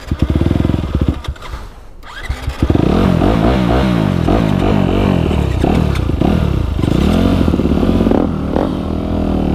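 Honda dirt bike engine running on a dirt track, a loud steady motorcycle roar with repeated revving and throttle swells after a brief quieter dip near the start, close and continuous.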